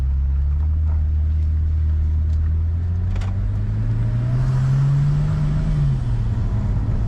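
BMW N54-engined car with a six-speed automatic swapped to a DCT gearbox, driving on the road: steady loud engine drone that rises smoothly in pitch as it accelerates, then dips briefly around a gear shift, with no talk.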